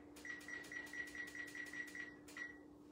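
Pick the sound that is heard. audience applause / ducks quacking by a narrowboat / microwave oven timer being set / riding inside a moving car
microwave oven timer being set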